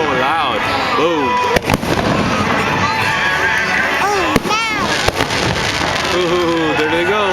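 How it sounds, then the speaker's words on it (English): Birthday fireworks go off at a neighborhood block party, sharp loud bangs and crackles with whistling rises, heard under near voices talking and exclaiming throughout. "Are these happy birthday fireworks?"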